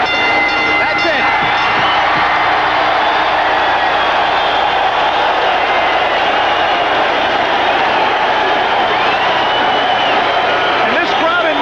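A boxing arena crowd in Norfolk roars and cheers continuously at the end of a world title fight between Pernell Whitaker and Roger Mayweather, a loud, dense wall of noise with a commentator talking over it.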